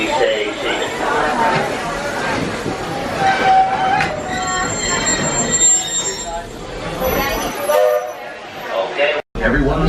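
Walt Disney World Railroad train rolling along its track with wheel squeal on the rails, a steady rumble beneath close announcements and chatter from riders aboard the cars.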